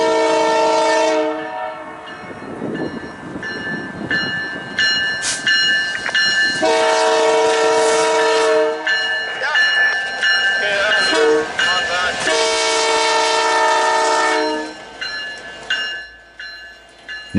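A loaded freight train leaving a CP yard entrance sounds its horn in repeated long, loud blasts while the cars rumble and clatter past close by, with some speech faintly underneath.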